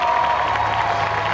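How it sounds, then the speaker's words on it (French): Audience applause and cheering at a cosplay jury presentation during the Made in Asia 2023 convention, a dense continuous wash of clapping from a crowd, loud and close. "Je vous demande d'applaudir encore une fois Kairi"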